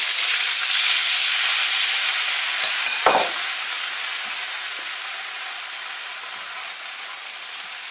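Ginger, garlic and a prepared sauce sizzle loudly in a tablespoon of hot oil over high heat for Chinese General Tao chicken. The hiss is steady and close, with a brief stirring clatter midway, then eases slightly.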